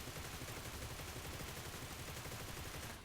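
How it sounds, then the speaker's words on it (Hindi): Rapid automatic gunfire in the mobile shooter PUBG Mobile while the player's character runs, a dense continuous burst of shots that fills the whole moment and cuts off at the end. "मैं भागते भागते अब फायर करूँगा"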